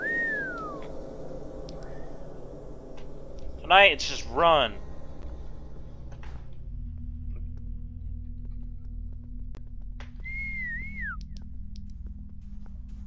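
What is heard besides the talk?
whistling in a video game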